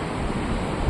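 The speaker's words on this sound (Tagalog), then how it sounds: "Ayan po ang dagat ngayon." Sea waves washing along the shore at Alassio in Liguria on a cold late-October day, a steady broadband wash with a slight swell near the end, no voices.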